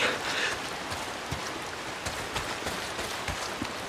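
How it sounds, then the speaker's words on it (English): Continuous rain pours down in the video game Days Gone, a broad hiss scattered with sharper droplet ticks and splashes, fairly close and even in level. "Why is it always raining?"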